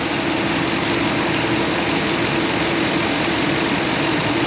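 A car engine idles steadily on its stock alternator, a loud, continuous low hum with a constant tone and no speech, held evenly throughout.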